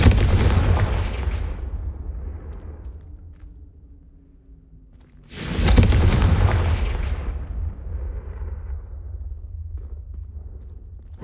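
Confringo explosion spell cast in the Hogwarts Legacy video game; two heavy booming blasts several seconds apart, each a loud deep burst that rumbles and fades slowly, with no voices over them.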